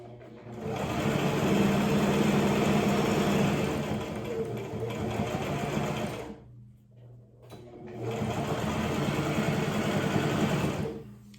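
Sewing machine stitching along a folded strap in two long continuous runs, whirring steadily and close, with a brief pause between them.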